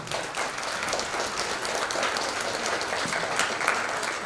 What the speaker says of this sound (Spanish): Un fuerte voto de aplausos, por favor.